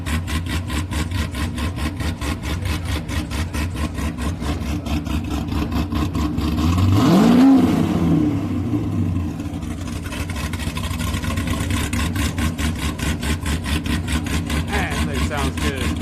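Drag race launch at a Houston raceway street night, a Turbo Civic against a Camaro: a steady engine drone swells into a louder rising roar midway, then settles back under continuous background noise.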